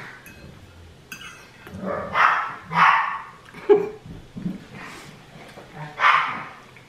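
Two small dogs and a big dog bark at each other indoors, a run of sharp, uneven barks spaced through the stretch, close and fairly loud with faint voices around them.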